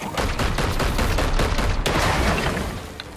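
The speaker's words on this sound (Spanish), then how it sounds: "Ahora sí podemos disparar. Confirmamos el disparo." Rapid bursts of gunfire crackle continuously, loud and dense, like automatic weapons firing in Warhammer 40K: Chaos Gate – Daemonhunters, fading slightly at the end.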